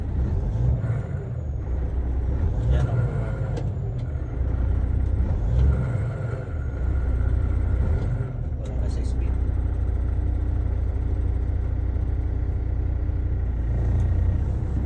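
Loud, steady truck engine rumble with a brief mechanical grind during a gear change, voices talking over the noise.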